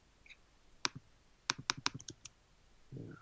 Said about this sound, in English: Double click should copy it.